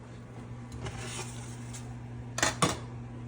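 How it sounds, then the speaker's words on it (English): A steak goes into a pan, heard as a few light clinks and scrapes of metal cookware over a low steady hum, followed by two sharp clattering hits near the end, with no talking. "We're going to take that to the pan."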